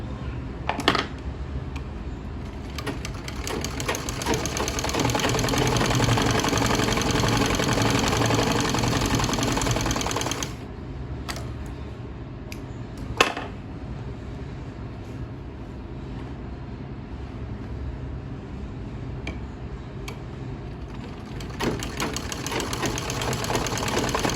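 A sewing machine runs a second line of stitching to make a double seam around the neck of a kameez. Its rapid, steady whirring is loud for about ten seconds, then continues more quietly with a few sharp clicks and knocks.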